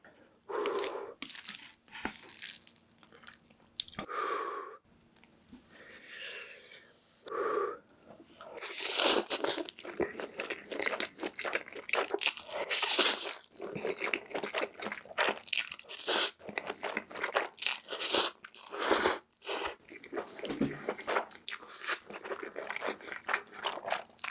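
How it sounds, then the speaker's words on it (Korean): Chapagetti black bean noodles eaten with seokbakji radish kimchi and a fried egg: close, loud crunching bites of kimchi, slurps and wet chewing in irregular bursts throughout, with no talking. "오늘은 짜파게티 석박지 계란 후라이 준비했습니다 잘 먹겠습니다"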